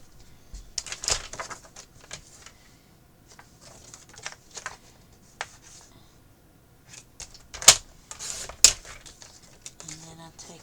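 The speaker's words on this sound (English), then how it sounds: "So we cut this base page down to 7." Paper album base page being cut down to size, a few scattered crisp snips and scrapes, close and moderately quiet with pauses between.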